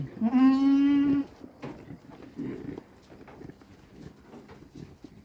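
Goats during mating let out one loud, drawn-out bleat near the start, followed by quieter shuffling, scuffs and faint bleats or grunts in a farm setting.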